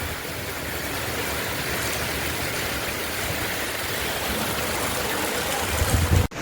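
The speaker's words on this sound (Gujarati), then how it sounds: "આપ જોઈ શકો છો જોરદાર વરસાદ પડે છે." Heavy rain pours in Rajkot in a dense, constant hiss and roar, unbroken throughout with no voices.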